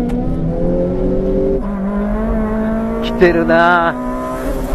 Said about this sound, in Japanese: 高速コーナーでもミニは完璧な走り。